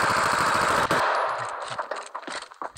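A fast, loud burst of automatic gunfire from the Standoff 2 shooter game, followed by scattered clicks and shorter shots as the firing breaks up.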